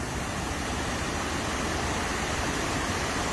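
The Kurşunlu waterfall in Salihli, Manisa pours out a steady, unbroken roar of rushing water, broad and constant from start to finish with no voices.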